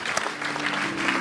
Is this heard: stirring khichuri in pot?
no